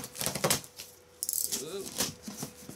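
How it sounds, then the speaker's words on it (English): A blade slices packing tape on a battered Ryobi band saw shipping box, a short scratchy rip amid light rattling of the cardboard, with a voice talking close by. "the box looks pretty well beat up here, so let's hope everything's alright inside. The typical cutting of the tape."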